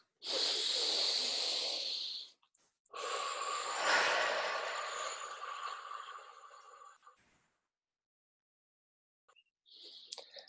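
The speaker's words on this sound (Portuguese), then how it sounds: "Então nós vamos fazer uma inspiração profunda E na expiração, nós vamos soltar tudo que tem a ver com o passado." Deep breathing during a guided exercise: a long breathy inhale, a pause, then a longer exhale that fades out, close and clear, followed by silence and the start of another breath.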